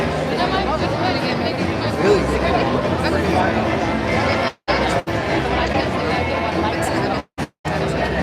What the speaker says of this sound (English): Pretty good crowd.